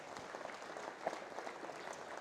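A city audience at a State of the City address applauds, a fairly faint, distant patter of many hands clapping that holds steady throughout.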